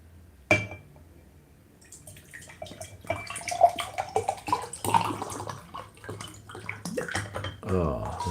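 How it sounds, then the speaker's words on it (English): Water splashes and trickles as it is poured, starting with a sharp clink and building into an uneven gurgling stream, mixed with scattered talk. "Let me pour in some water."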